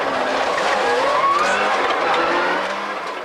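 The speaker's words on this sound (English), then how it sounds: "let loose in Colin McRae's 300 horsepower World Rally car" A 1997 Prodrive Subaru Impreza S3 WRC rally car with 300 horsepower skids loudly on a stage road, its tires squealing in rising and falling pitch over a continuous engine roar, close and without voices.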